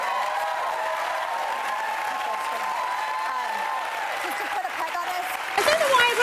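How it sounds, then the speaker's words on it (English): Sustained studio audience applause on a daytime talk show, dense steady clapping that carries on for several seconds before a brief shift near the end. "I don't know why everyone's clapping."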